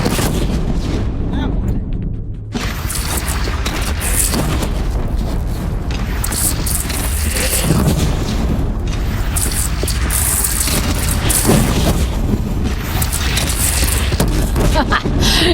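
Cannon fire booms in the video game Horizon Zero Dawn during a battle against a bandit clan, with heavy repeated blasts and rumbling explosions layered over a constant din of combat, and voices shout over the noise.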